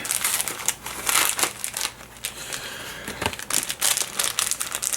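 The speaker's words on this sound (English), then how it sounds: "I'm just gonna rip it open this way then." Crinkling and crumpling of packaging as a parcel is ripped open by hand for an unboxing, with continuous close crackly rustling in several loud bursts and brief lulls.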